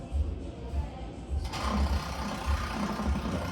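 An increment borer turning counterclockwise as it is reversed out of timber to pull the core, a low rhythmic ratcheting and grinding repeating steadily throughout, with a brighter scraping layer joining halfway.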